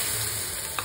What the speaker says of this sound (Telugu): ఈ పోపు బాగా వేగిన తర్వాత ఇష్టం ఉంటే వెల్లుల్లిపాయలు వేసుకోండి